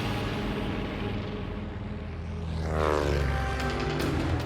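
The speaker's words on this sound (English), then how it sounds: "the 4 engines of the B-17 powered the heavy plane up into the sky" A four-engine B-17 heavy bomber climbs away on takeoff, its propeller engines producing a loud, steady droning roar that swells toward the end, with no voices.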